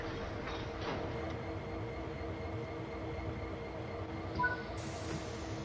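A train rolling along in Train Sim World 4, a faint steady rumble of wheels and carriages with soft hiss, no voices over it.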